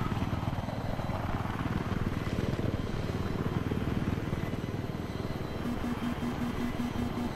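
A steady, loud rotor drone of a helicopter in the video game Battlefield 3 fills the clip, a continuous whirring roar with a faint beeping tone near the end.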